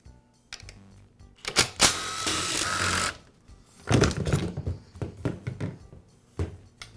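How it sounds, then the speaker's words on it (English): One of three fuel tank bolts is being removed from an Echo string trimmer, a loud close mechanical buzzing and rattling in bursts, with one sustained run in the middle and shorter choppy pulses afterward. "The tank is secured with just 3 bolts. I'll go ahead and remove them."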